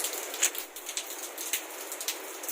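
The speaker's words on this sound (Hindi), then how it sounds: "बारिश हो रही है।" Steady rain falling, a soft continuous hiss scattered with the light patter of individual drops, even in level throughout and with no voices.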